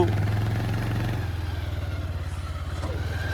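A motorcycle engine idles with a steady, throbbing low rumble and faint mechanical clatter, close by and continuous, no talking over it.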